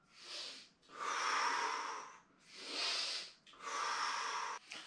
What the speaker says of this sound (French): Et on passe à la respiration.